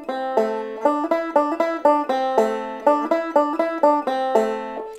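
Banjo playing the chorus of a song in a straight, even feel, each plucked note the same length in a steady rolling pattern, bright, close and unaccompanied.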